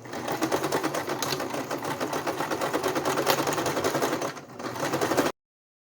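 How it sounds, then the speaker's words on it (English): Sewing machine rapidly stitching a fabric cake strip, a steady close rhythmic clatter with a brief dip near the end before stopping abruptly. "Put it back through your sewing machine."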